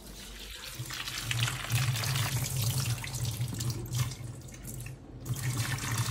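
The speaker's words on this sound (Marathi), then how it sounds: "आपण याला स्वच्छ धुवून घेऊ." Cauliflower pieces are washed under a running kitchen tap, a steady close rush of water splashing into a sink with a low hum beneath it, continuous throughout with no talking.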